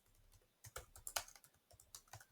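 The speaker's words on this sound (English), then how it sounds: "So I'm going to type in the Joy" Quick bursts of keystrokes on a computer keyboard, close and quiet, tapping in an uneven rhythm with no voices.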